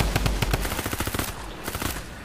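A submachine gun in Fortnite Save the World fires a continuous rapid burst against Husks, loud and close, each shot pulsing in a fast even rhythm before tapering off.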